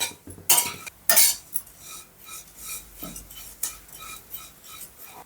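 Flattened rice (poha) dry-roasting in a pan for laddu, giving dry scraping and rustling strokes with a few loud rasping sweeps near the start, then softer intermittent scratching, close, with no speech.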